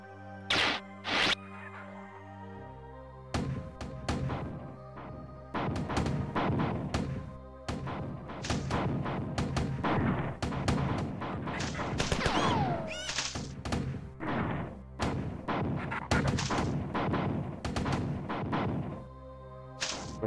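Grenade launcher fire in the game Marathon: a dense run of heavy thumping shots and booming blasts, loud and repeated over a cluttered stretch of game noise.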